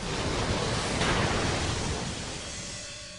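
Heavy sea waves pound a Dubai island construction site, a loud, continuous wash of broadband surf and wind roar that swells and then slowly eases.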